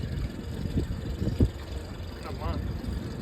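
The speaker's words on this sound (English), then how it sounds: "Engine is running, and we haven't had it in the water in about a month." Honda outboard motor idling on a boat heading out onto the water at Saugatuck, Michigan, a steady low hum running under a voice.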